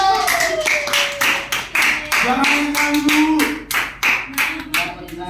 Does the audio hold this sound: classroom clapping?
yes